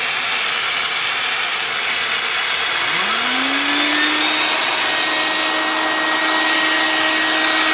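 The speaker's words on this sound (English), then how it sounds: "now what I gotta do is turn on the vacuum." A shop vacuum switches on during sand casting, its motor whine rising over about two seconds to a steady hum that holds loud and close, with no talking.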